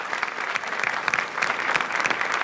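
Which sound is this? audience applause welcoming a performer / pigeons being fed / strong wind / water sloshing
audience applause welcoming a performer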